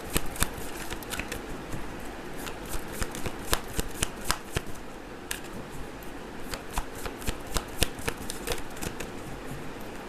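A deck of tarot cards is shuffled by hand, producing a rapid run of crisp riffling snaps and flutters that comes in uneven bursts, close up and without voices.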